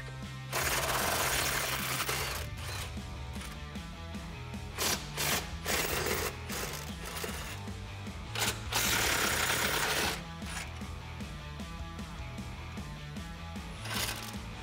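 A power tool rattles and buzzes in repeated bursts while removing bumper hardware from a Jeep Wrangler JL frame, with short rapid hammering runs broken by pauses and clinking metal.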